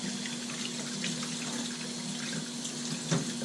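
Tap water runs steadily over a Fluval 406 canister filter holder in a sink, a close continuous splashing rush with a faint hum, no one talking.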